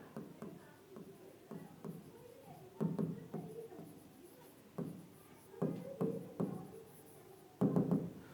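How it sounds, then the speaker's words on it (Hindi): Marker or chalk writing on a board during an organic chemistry lesson, a series of short taps and strokes in irregular bursts, with a teacher speaking over them. "यहाँ पे लिखता हूँ फंक्शनल ग्रुप"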